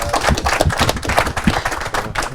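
An audience applauding two contestants at a live event, giving a loud, dense and continuous patter of many hands clapping with an uneven rhythm and no talk over it.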